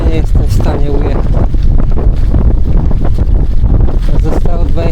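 Strong gusting wind buffets a cyclist riding into a headwind on a rough, poor road surface, a constant loud low roar of wind on the microphone with a voice talking through it.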